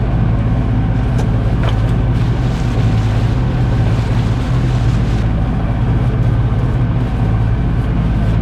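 Steady low engine drone of a sailboat motoring at sea in Scandinavia into a headwind, with constant hum and water and wind noise throughout, no voices.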